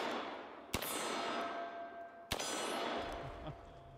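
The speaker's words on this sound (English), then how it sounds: "Is he ever going to shoot the gong?" Two sharp gunshots ring off a steel gong, each a loud crack followed by a long, shimmering metallic decay, spaced about a second and a half apart at an outdoor shooting range.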